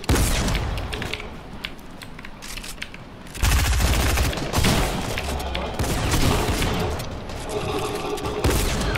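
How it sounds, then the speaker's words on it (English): Dense, continuous gunfire from the Fortnite video game fills the scene, rapid bursts stacking into a fusillade that grows louder midway and keeps going to the end. "I'm getting shot from everywhere."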